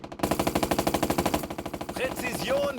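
A squad leader fires on enemy infantry in the turn-based tactics game Burden, producing a loud, rapid burst of automatic gunfire with evenly spaced shots that runs for about two seconds before trailing off into other game sounds.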